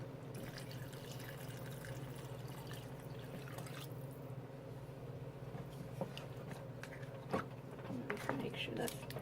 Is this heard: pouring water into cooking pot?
yes